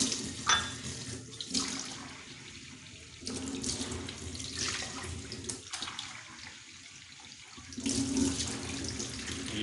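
Water poured or run from a tap into a cooking pot to measure one and a half cups for brewing kahwa, a steady splashing stream in several bursts with brief pauses, close and alone with no talk.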